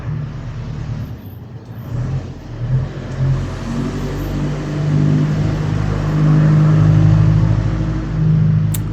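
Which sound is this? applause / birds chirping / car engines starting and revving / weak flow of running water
car engines starting and revving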